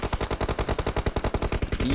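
Rapid automatic gunfire from PUBG Mobile rattles out in a steady, evenly spaced stream of loud shots lasting the full two seconds, with no talking over it.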